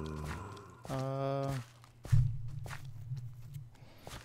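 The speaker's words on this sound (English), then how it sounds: "thought I heard footsteps" Footsteps in the Minecraft MineZ survival map: faint, quick steps tap through the background after a stretch of sustained game tones, with a low hum underneath.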